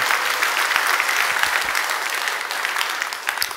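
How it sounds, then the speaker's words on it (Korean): A church congregation at a Korean worship service bursts into dense, continuous clapping that stays loud and full for a few seconds before tapering slightly at the end. "박수 치신 분들은 수준 있는 분들이에요."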